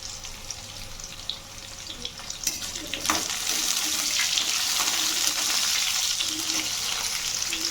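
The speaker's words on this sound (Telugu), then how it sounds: "ఉల్లిపాయలు కొంచెం వేగాయండి ఇంకా పచ్చిమిర్చి కూడా వేసుకుంటున్నాను" Onions and green chillies fry in a pan for a fish curry, giving off a steady sizzle that grows louder and denser halfway through, with a few stirring clinks and no talking.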